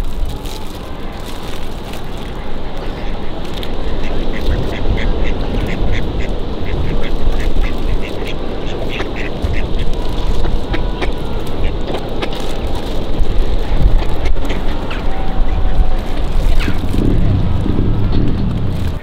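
Ducks quacking outdoors by a river, repeated calls over steady wind and background noise.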